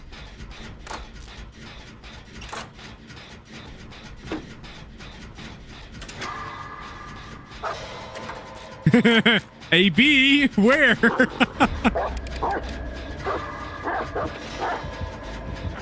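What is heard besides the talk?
dog barking and yipping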